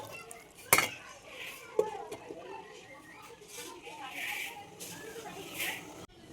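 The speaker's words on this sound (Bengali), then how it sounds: "নেড়ে মিশিয়ে দিয়ে আবারও ঢাকনা দিয়ে কিন্তু ঢেকে দিচ্ছি" Metal utensils clink and scrape against a cooking pot of dal with greens while it is stirred, followed by a sharp clatter as the lid is set on, with softer kitchen clatter after.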